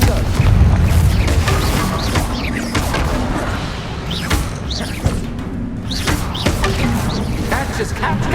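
The Confringo spell goes off in Hogwarts Legacy on PS5, a booming blast at the start followed by crackling game effects and scattered sharp hits, with a voice speaking over the game sounds.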